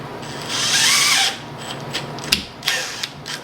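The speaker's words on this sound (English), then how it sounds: "I'm just going to screw the screw in" A power drill drives a screw into a siren mounting bracket on a bike, with a loud whirring burst of about a second followed by several short clicks and taps of the tool and parts.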